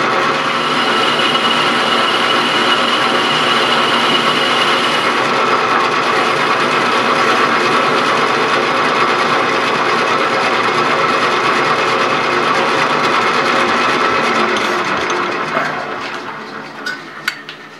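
Metal lathe turning a workpiece before knurling with an Eagle Rock K1 44 knurler and A.R. Warner HSS inserts, cutting a 50-thousandths pass: steady, loud whirring and grinding machine noise that runs continuously, then tapers off near the end.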